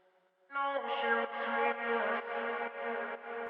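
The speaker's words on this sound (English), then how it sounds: "Big quarter note delay throw, half note delay throw right here." A sung lead vocal note in an anthemic pop mix bursts in and repeats through quarter note and half note delay throws, the echoes pulsing in even steps before trailing off.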